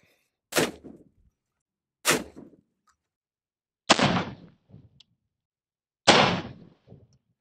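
Shotgun rounds are fired at a concealable Level IIIA+ multi-threat vest: four loud, sharp blasts spaced roughly two seconds apart, each with a short decaying echo, outdoors with no talking.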